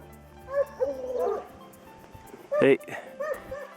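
Dogs yip and whimper at a middle distance, with a couple of sharp barks mixed into outdoor background noise.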